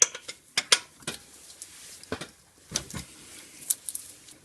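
A 21mm socket on a breaker bar works loose the tight drain plug of a Subaru 4EAT four-speed automatic front differential, producing close, irregular metallic clicks and clanks with short quiet gaps between them.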